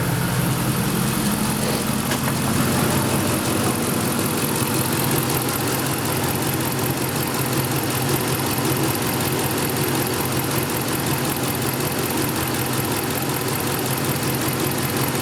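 A 5.7L Dodge Ram V8 idles steadily after first start following a water pump replacement and coolant vacuum bleed, a dense, continuous engine drone with slight vibration, heard close and alone.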